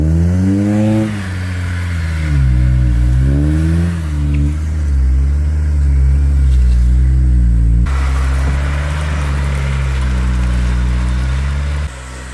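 A Nissan R32 Skyline engine cranks and catches, then revs up and down repeatedly with a loud, rumbling idle between revs, close by.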